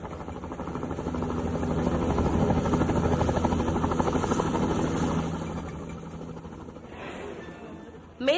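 A helicopter on a tourist ride flies past with a steady, rapid blade chop and engine drone, swelling loud and close before fading away toward the end.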